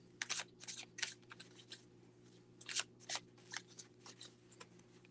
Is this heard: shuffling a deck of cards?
yes